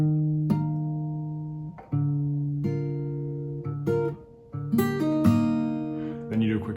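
A few plucked acoustic guitar notes ring out one after another, with a sharp pull-off changing the pitch, played slowly and close.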